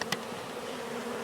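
Honey bees hum around a hive entrance at a newly installed package colony, a steady close buzzing drone with no voices.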